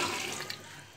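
Cooked chickpeas for chole tip into a pot along with their cooking water, a short rushing pour and splash that is loud at first and tapers off within a second; no voices.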